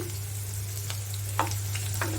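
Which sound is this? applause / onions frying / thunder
onions frying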